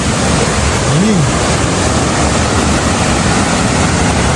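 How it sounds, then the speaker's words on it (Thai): Loud, continuous rush of Kong Kaeo waterfall at Khao Yai in the rain, a dense roar of fast-falling water filling the scene up close, with a brief voice underneath. "โอ้โห น้ำไหลแรงมากเลย"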